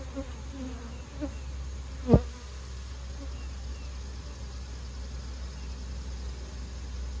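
Honeybees hum in a steady, low buzz around a hive, with one brief sharp knock partway through and faint background noise.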